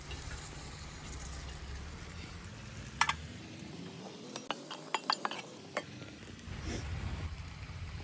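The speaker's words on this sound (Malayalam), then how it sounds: "ഇനി കുറച്ച് ചോറ് ഇട്ട് കൊടുക്കാം" Cooked rice goes into masala in a pan for fried rice, marked by several light metallic clinks and scrapes of a spoon against the pan over a faint, steady sizzle.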